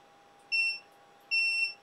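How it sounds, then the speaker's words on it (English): A bench multimeter in continuity mode gives two clear electronic beeps, each lasting about a third of a second with a pause between, over a steady low hum in a quiet lab. "You can hear that beep, beep, beep,"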